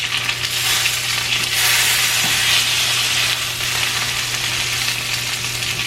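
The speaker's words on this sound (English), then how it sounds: "Now I'm going to flip it and cook it on the other side for 4 minutes." Food sizzles steadily in a hot pan after being flipped, a loud continuous crackling hiss with no talk.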